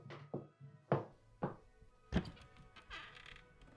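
A front door being opened at home as family arrives: a series of dull, close thuds and knocks spaced unevenly, with rattling handling noise toward the end and no talking.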